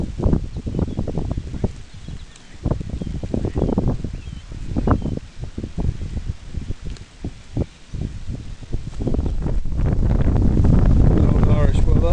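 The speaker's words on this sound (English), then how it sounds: "Old Irish weather, it's just a little tad windy." Heavy wind in Ireland buffeting the microphone in continuous gusts, rumbling low and loud, growing stronger toward the end.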